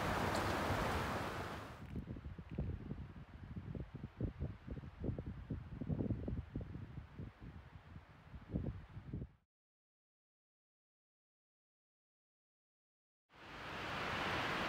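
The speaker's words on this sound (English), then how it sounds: "The wind's picking up out here." Wind rises on a mountain logging road, a loud hiss that gives way to gusty, rumbling buffeting across the microphone, then cuts to silence before the broad rush returns.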